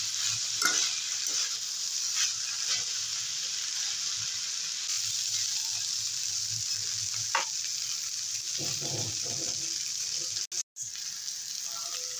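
Fried fish added to a vegetable chorchori in a pan over low gas flame, stirred with a steady low sizzle and a few scraping spoon strokes, fairly close, ending in a brief cut.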